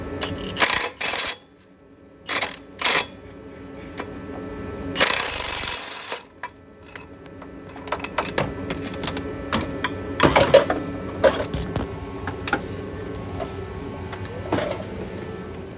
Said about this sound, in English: about to finish wrenching, take these torque converter bolts out, and then rest of the trans case bolts